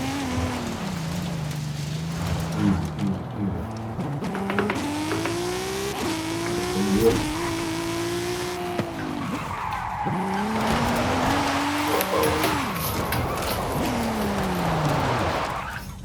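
A Toyota Supra's engine revs continuously, its pitch climbing and dropping through repeated gear changes, loud and steady with a gritty tyre-skid edge throughout.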